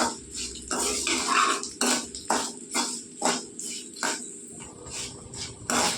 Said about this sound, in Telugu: ఎండుమిరగలు బాగా ఎగిపోయాయండి